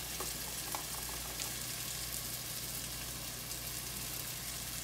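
Tomato masala frying in a pan before chicken masala is added, a steady soft crackling sizzle with faint pops, continuous and close without talk.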